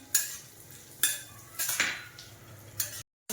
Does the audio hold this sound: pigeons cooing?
no